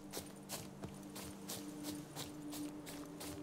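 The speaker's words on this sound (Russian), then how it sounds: "Коза бегает." Goats run about in The Witcher 3, their hooves clopping in a quick, uneven patter of soft thuds over a steady game ambience with a low hum, fairly faint throughout.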